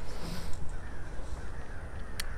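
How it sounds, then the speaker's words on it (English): Crows cawing outdoors, harsh calls fairly distant within a steady wash of outdoor background noise. "the birds have started deciding to make a ruckus"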